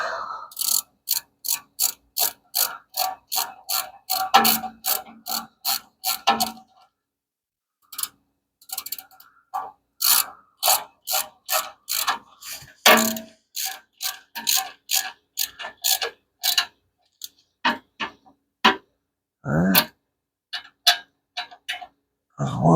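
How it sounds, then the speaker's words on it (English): A small hand ratchet snugs up bolts on a 5.7 Eagle Hemi engine, giving crisp, close, rapid clicking runs broken by short pauses as the bolts are tightened one after another. "First, let's snug them up with a little ratchet first."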